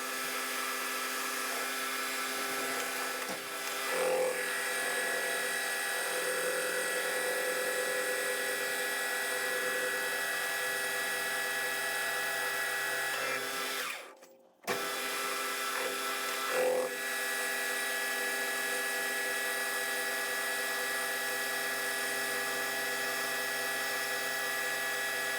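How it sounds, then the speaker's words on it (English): A lathe turns steadily while skimming the outside of a homemade steel boring bar, a continuous whirring machine drone with a brief dropout midway, then resuming at an even level, no talking. "I'm going to skim the outside here and then spin it around and skim the other end."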